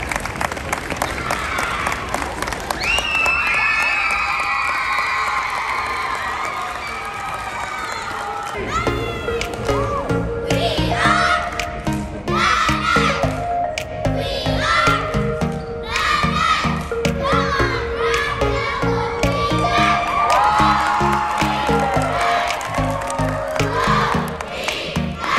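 Crowd at a children's cheerleading competition, cheering and clapping in a large venue; a roar of voices and applause opens, then loud music with shouts and children's voices continues over it.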